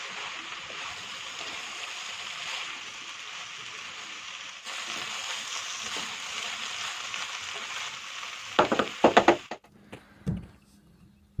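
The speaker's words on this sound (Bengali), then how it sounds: "এখন আমি আরও প্রায় 1 মিনিটের ধরে একটু ভেজে নিচ্ছি" Mixed vegetable khichuri ingredients frying in a pan over medium heat, a steady broad sizzle that runs continuously, followed near the end by a few sharp clinks and scrapes of a utensil against the pan.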